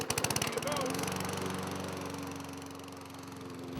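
A lawn mower engine runs steadily and close by at a building's grounds, a loud continuous drone with a sharper start, while a voice speaks faintly over it.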